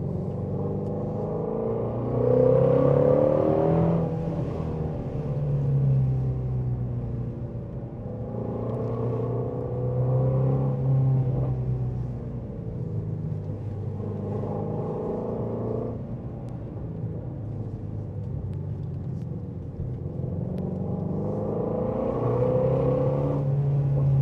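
Car engine pulling after a downshift, its moderate drone rising and falling in several long swells as it accelerates and eases off, heard from inside without talk.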